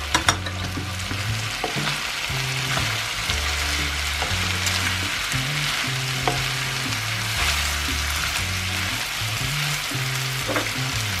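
Potatoes fry in a pan of tomato-paste sauce for Turkish tas kebab, giving a steady, close sizzle that crackles evenly from start to finish with no one speaking.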